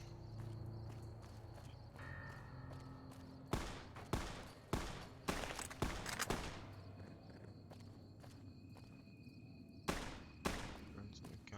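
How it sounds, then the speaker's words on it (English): Gunfire in Fallout: New Vegas cracks out in sharp, scattered shots, some in quick clusters, a few loud ones standing above a low ambient hum and faint rustling. "There's the gunshots, but I don't know where they come from."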